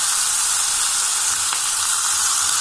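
Three tomatoes dropped into hot oil in a pan while cooking meal maker kola kulambu set off a loud, dense, continuous sizzle that holds steady from start to finish.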